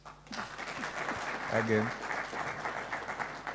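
Audience applause at the Cyberweek Africa event, a moderate patter of clapping running under a speaker's voice and brief vocal sounds.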